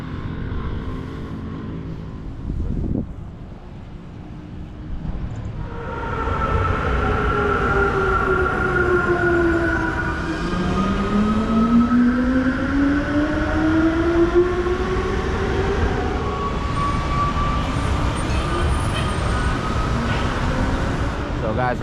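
A Medellín metro B line train runs on elevated tracks, loud and close, its rising and falling electric motor whine sweeping over a rumbling roll that builds after a quieter start.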